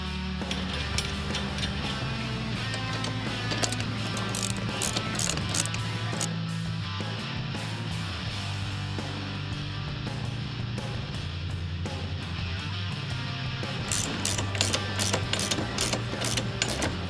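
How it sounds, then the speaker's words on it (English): A ratchet tightens the retaining nuts on a Steinjager Hi-Lift jack roll bar mount, steady rapid clicking throughout with mechanical rattles, loud and close, no talk. "Install the retaining nuts and tighten both of them."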